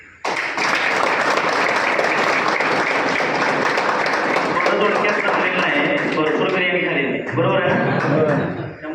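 Applause from a group at a birthday celebration held at a de-addiction centre, a dense burst of clapping that starts abruptly, holds steady for about eight seconds and then fades, with voices mixed in.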